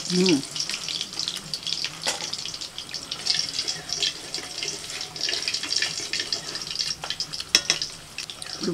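Faint, continuous sizzling and crackling of small topse fish frying in oil, with occasional clinks and a brief voice in the background.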